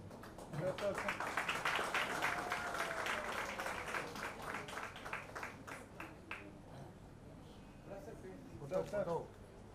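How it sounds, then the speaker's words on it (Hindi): An audience at a Vasantotsav cultural event in Mumbai claps warmly to welcome a guest, a dense patter of applause building early, then thinning and tailing off, with a voice talking over parts of it. "जोरदार तालियों से स्वागत।"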